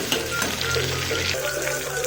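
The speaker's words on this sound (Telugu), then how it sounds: "ఉద్దిగాలు ఎర్రగా వేగినాక ఇన్ని ఎర్రగడ్డలు సన్నగా కోసుకొని వేసుకోవాలా" Thinly sliced onions frying with reddened urad dal in hot oil give a loud, steady crackling sizzle, close up, with occasional stirring scrapes in the pan.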